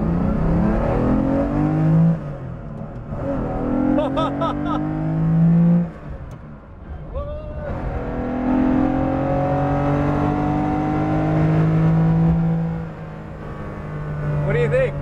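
Kelly Moss Safari-spec Porsche 911 engine droning and revving steadily while driving, loud and continuous, with short lifts between throttle pulls and voices talking over it.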